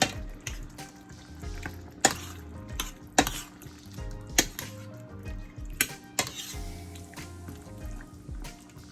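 Shrimp curry with coconut milk stirred in a pan, with repeated clinks of a utensil against the metal over a wet bubbling, simmering sound, close by and with no talking.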